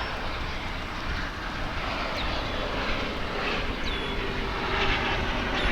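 Aircraft arriving at DFW Airport produce a loud, steady jet engine roar that swells slightly toward the end, heard at a distance across the airfield with no talking.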